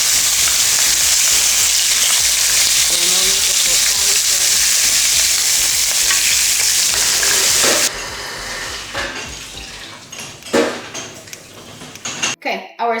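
Steaks sizzle loudly and steadily in a hot pan for most of the stretch, then the frying drops away into clattering utensil and pan handling near the end, with no one talking.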